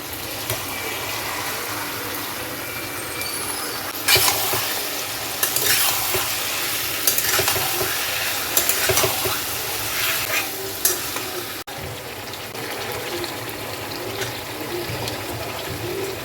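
Chicken frying in a pan with sauce, a steady close sizzle with spoon scrapes and stirring clatter throughout, louder bursts of stirring in the middle, no talking.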